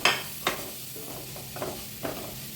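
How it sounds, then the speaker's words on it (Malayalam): Pepper, coriander and chili powders with salt fry in a pan, a soft sizzle broken by four distinct spoon scrapes against the metal, close and evenly spaced. "കുരുമുളക് പൊടിയും ഉപ്പും മല്ലിപ്പൊടിയും മുളക് പൊടിയും ഒക്കെ ഇട്ടിട്ട് നന്നായിട്ട് ഇളക്കുക"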